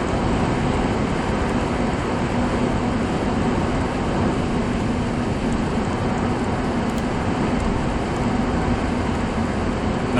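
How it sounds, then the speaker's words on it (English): Steady tyre roar inside a Honda FR-V 2.2 i-CTDI cruising at motorway speed, a constant broadband hiss and rumble that holds level throughout with no speech. "I'm hearing some tyre roar, but it's not overly intrusive"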